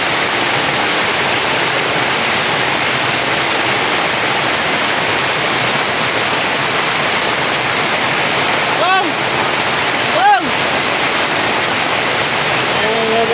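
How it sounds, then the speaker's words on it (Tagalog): Heavy rain pours down in a steady, loud hiss with no letup, heard from a market stall, and a couple of brief chirping whistles cut through partway in. "grabe lakas ng ulan"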